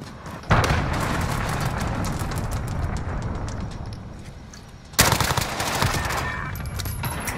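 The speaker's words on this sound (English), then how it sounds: "Allied cruise missile away." Gunfire and a cruise missile strike in a multiplayer shooter: a dense, steady rattle of shots and crackle, broken by two heavy blasts that each start a loud, sustained roar.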